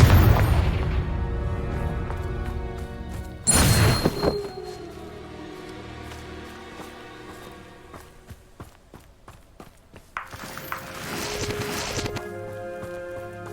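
A Confringo blasting spell from the Hogwarts Legacy video game erupts in a loud, broadband boom, followed by a second burst later amid rumbling game ambience and scattered clattering sounds.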